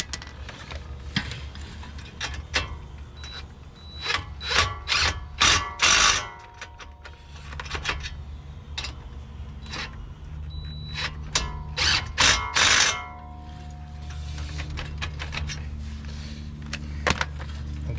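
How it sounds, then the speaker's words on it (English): A hand ratchet snugs down brake bolts on a 2017 Land Rover Discovery, clicking in short bursts of rapid pawl ticks with quieter gaps and light handling noises between. "Again, we'll just snug them down again with the ratchet."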